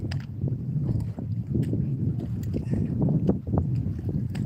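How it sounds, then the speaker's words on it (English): Wind picks up while a boat fishes at sea off Valentia. It makes a steady, close low rumble and buffeting against the microphone, with faint knocks mixed in. "Just as the wind picks up as well."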